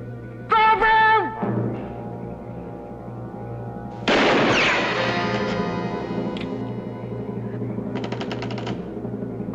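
Gunfire in a western TV drama: one sharp, loud shot rings out and fades into a long echo over background score, after a shouted line of dialogue.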